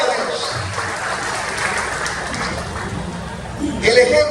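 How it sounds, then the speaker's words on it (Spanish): Church congregation applauding during a worship service, a steady diffuse wash of clapping with crowd murmur and a brief voice near the end. "Denle una ofrenda de palmas al Señor."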